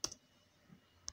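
A computer keyboard's enter key is pressed, giving two faint, sharp clicks about a second apart in a quiet room, with a soft thump between them.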